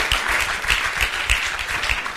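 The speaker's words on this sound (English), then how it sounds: "This is a good place to clap." A church audience breaks into applause, dense overlapping claps with louder individual hand strikes standing out, sustained and fairly close for the whole stretch.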